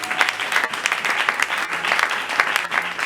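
A church congregation breaks into loud, sustained clapping, a dense wash of many hands close by, acclaiming Jesus during a service.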